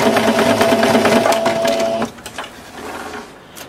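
A sewing machine hems the edge of a cloth napkin with a quick, even run of stitches for about two seconds, then stops abruptly, leaving only faint handling noises nearby.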